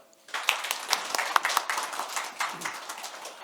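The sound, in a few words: audience applause at a conference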